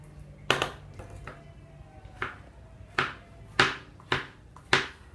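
Knife chopping bitter gourd into thin slices on a board, six or seven sharp, separate cuts at an irregular pace with quiet gaps between them, close and clear.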